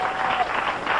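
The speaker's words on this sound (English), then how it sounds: "They clapped" Studio audience at a late-night television talk show applauding, a dense, steady wash of many hands clapping together, loud and close, with no talk over it.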